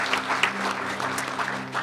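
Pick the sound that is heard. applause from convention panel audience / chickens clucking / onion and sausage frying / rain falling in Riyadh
applause from convention panel audience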